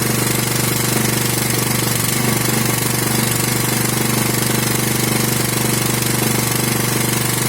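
A propane-fuelled gas generator runs under a 2 kW load, a loud, steady, close engine drone with a rapid knocking pulse and no talking.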